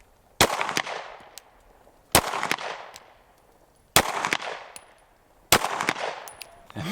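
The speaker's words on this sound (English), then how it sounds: "This gun actually shoots really well." Four loud, sharp pistol shots from an HK CC9 compact 9mm, spaced about every one and a half seconds at close range outdoors, each followed by a fading ring and echo.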